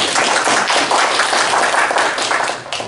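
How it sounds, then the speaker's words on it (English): A church congregation claps by hand in praise, a loud, dense, fast patter of many hands sustained nearly three seconds before tapering off at the end. "Can we give Jesus a hand clap?"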